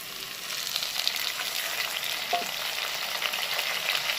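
Potato and pumpkin pieces with added tomato fry in a pan, giving a steady, soft sizzle with a few faint crackles and stirring sounds, alone and quite quiet.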